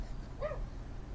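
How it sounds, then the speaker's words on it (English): A single short, faint bark from a dog outside, heard once at a distance over a low background rumble. "Maybe we may have dog barking for the remainder of the video."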